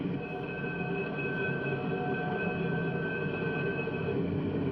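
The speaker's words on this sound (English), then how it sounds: "Bob will get off at a small station where the train stops only for a moment," The Santa Fe Super Chief passenger train, shown in 1954, rumbles steadily as it slows at a small station, with faint wheel squeal and a constant low rolling noise throughout.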